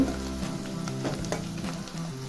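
Chopped onion sizzling in a pan over a medium gas flame, a steady close crackle with a few scraping stirs, alone with no voices.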